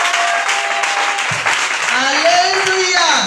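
A church congregation claps together in sustained applause, loud and dense, with voices and a sung or called tone rising over the clapping.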